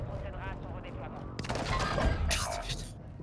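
A short burst of gunfire from a player in Warzone 2, several sharp cracks with a shattering edge, brief and moderately loud beneath someone speaking.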